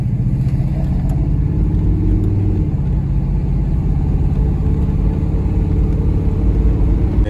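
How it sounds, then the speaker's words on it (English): A 1994 Chevy Caprice riding on 26-inch wheels, its engine giving a steady, loud, close low rumble while driving with no talk over it. "she rides good. Everything working, man. Like I said, she's a 94 Chevy Caprice."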